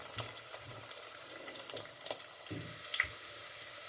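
Chopped onions with a few other additions fry in oil in a pan for a Punjabi-style kala chana pulao, giving a soft, steady sizzle at close range with occasional light stirring clinks and taps.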